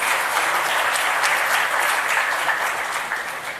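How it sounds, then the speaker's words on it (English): Audience at the Invest Karnataka 2022 Global Investors Meet claps in a full, continuous round of applause that fades slightly toward the end. "So let's give everybody a big round of applause."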